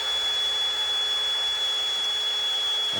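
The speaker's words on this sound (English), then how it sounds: "We got our cordless drill down here. We got our oil pump primed." A cordless drill spins steadily at constant speed while priming the oil pump of a Cummins 6.4L engine build, its whine loud and continuous throughout.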